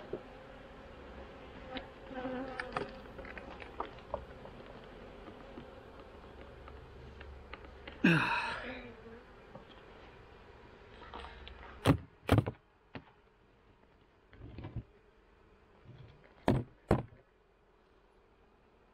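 A steady honey bee buzz hums throughout around an open hive, with a few sharp knocks and taps of wooden hive boxes punctuating it up close.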